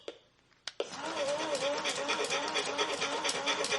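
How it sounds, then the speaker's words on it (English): A 2001 Mattel radio-controlled robot dog toy (Goddard from Jimmy Neutron) plays its electronic panting loop, a fast, buzzy rhythmic huffing that runs steadily after a couple of short clicks at the start. "Panting."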